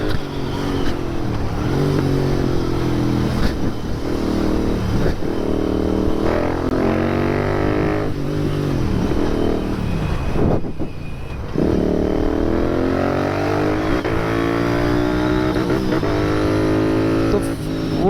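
A Royal Enfield Hunter or Interceptor 650 roadster accelerates hard through the gears, its engine note climbing repeatedly with brief drops at each shift, loud and close throughout.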